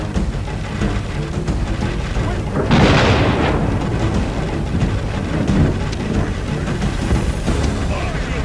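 Artillery volley fired in the Roman-era strategy game Total War: Rome, a broad rumbling boom swelling at about three seconds over a continuous low, rain-like battle din.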